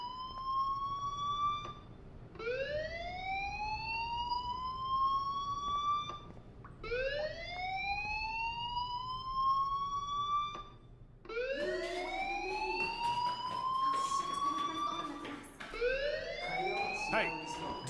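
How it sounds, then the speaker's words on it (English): Fire alarm in the video game Life is Strange wails in repeated rising sweeps, each a few seconds long with brief gaps, steady and prominent, with muffled speech underneath. "do you hear that fire alarm? That means you should be outside."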